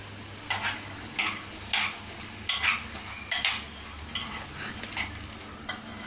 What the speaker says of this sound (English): Mix all the vegetables once you add one by one.